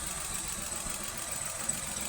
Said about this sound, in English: check to see if there is any difference in the engine sound when I pull this connector